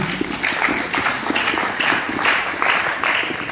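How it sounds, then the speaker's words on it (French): A church congregation claps in a fast, rhythmic pattern, the hand claps steady and fairly loud, filling the room with brief cheering voices underneath. "Acclamons Jésus pour eux."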